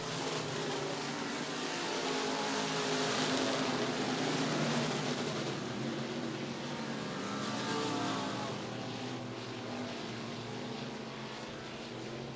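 Stock cars roar around a Murray County Speedway track toward the checkered flag, a dense, sustained engine drone with rising and falling waves of revving as the field passes, loud and continuous throughout.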